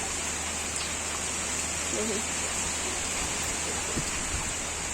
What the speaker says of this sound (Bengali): অত বৃষ্টি অত বৃষ্টি কন্টিনিউ